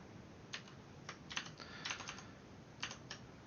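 Keys on a computer keyboard tap in scattered short bursts over a quiet hiss, close and soft, with no one speaking.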